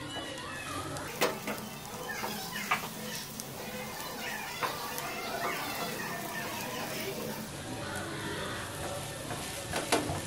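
Slices of bread frying in butter in a pan for a spicy bread omelet toast, with a steady sizzle and occasional stirring or turning clicks, heard alongside background activity.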